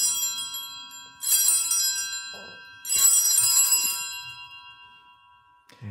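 Altar bells ring at the elevation of the host and chalice during a Catholic Mass: two bright, shimmering bursts of ringing about a second apart, each fading into quiet, with no speech.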